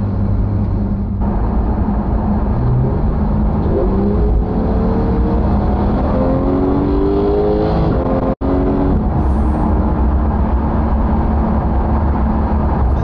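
A Porsche GT3 4.0 with a PDK gearbox accelerates hard from inside the car, its engine note climbing through rising sweeps with abrupt breaks at each paddle-shifted gear change, loud and continuous with no talking.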